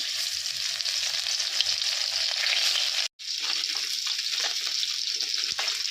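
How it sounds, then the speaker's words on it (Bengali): Fish frying in hot oil in a wok over a wood-fired clay stove, a steady loud sizzle with crackling bursts, broken by a brief pause midway, then resuming with stirring clatter. "মাছটা তেলে দিয়ে দেবো"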